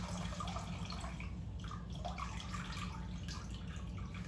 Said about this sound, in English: Just like I'm squeezing the water out of the sponge,